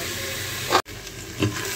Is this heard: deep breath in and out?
no